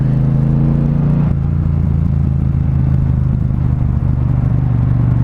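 A Triumph Bonneville Speedmaster motorcycle rumbles loud and close, engine droning steadily in second gear through a dry bend, with a slight shift in tone partway.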